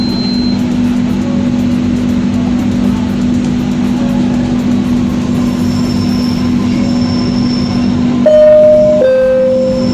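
Palembang LRT light rail train running between stations, heard from inside as a steady, loud rumble and hum of wheels on track, with a brief rising tonal squeal or chime near the end.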